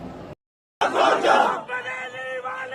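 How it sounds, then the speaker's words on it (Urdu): A crowd chants slogans inside a Chishtiya dargah. A short silent gap gives way to loud massed shouting, which settles into a sustained, tonal group chant. "اب درگاہ شریف کے اندر میں کیا نعرے بازی ہو رہی ہے"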